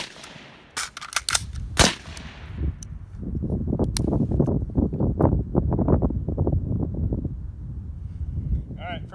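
Gunshots from a PWS MK1 short-barreled rifle: several sharp, loud reports in the first two seconds, then a stretch of rustling, clattering reload handling, and a final faint metallic click near the end.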